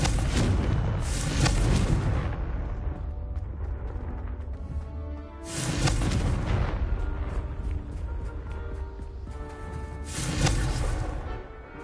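Repeated heavy fire-blast explosions from the Confringo spell in Hogwarts Legacy on PS5, booming in three loud waves, each burst rumbling and decaying into crackling debris.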